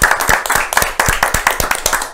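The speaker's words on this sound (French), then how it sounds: "On vous applaudit." Close, crisp hand clapping comes as a loose rhythmic burst of sharp individual claps, loud and near, with a few hands clapping together over about two seconds.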